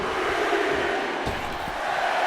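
A roaring arena crowd in the WWE 2K25 wrestling video game, a steady loud wash of cheering and shouting with a couple of low thuds partway through.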